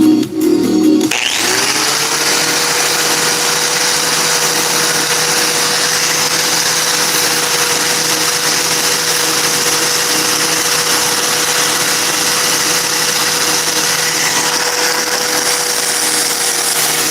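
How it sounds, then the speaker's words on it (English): A power tool whines steadily at high speed, grinding mill scale off steel before welding in a garage, loud and continuous after a brief scrape at the start. "I'm just trying to get all the mill scale off, so when I weld it on there, it'll just weld on."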